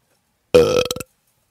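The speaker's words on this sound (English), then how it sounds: "Under Country Music News Wet Belch of the Week." One wet, gurgling belch, loud and close, starting with a burst and breaking into a few rapid pulses before cutting off into silence.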